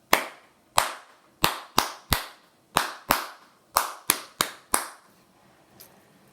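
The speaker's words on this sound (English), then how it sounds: "We'll clap that together." Hands clap out a short classroom rhythm of quick and slower beats, about a dozen sharp claps in an uneven pattern, close and clear, then silence.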